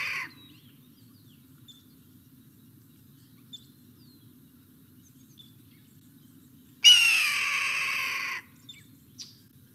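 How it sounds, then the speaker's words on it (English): A played recording of a red-tailed hawk gives a long, hoarse, descending scream lasting nearly two seconds, loud against a quiet background with a faint low hum, preceded by a brief call at the start. "let me hush the hawk for a second"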